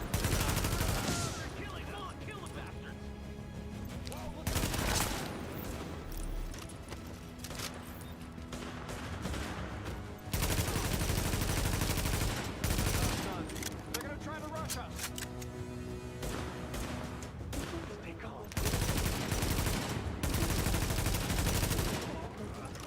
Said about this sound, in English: Nice shooting there.